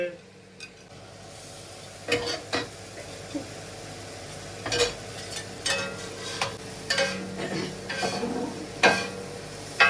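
Kottu roti cooking with egg, onion and leeks, scraped and stirred in a hot pan under a steady sizzle, with repeated metallic clanks and scrapes close by and no talking.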